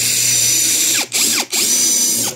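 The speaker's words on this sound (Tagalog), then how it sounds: "So, kailangan po nakaslant po yung ating barena." A power drill bores into an aluminum frame of a 38 series awning window, giving a steady high motor whine with two short dips as the bit catches.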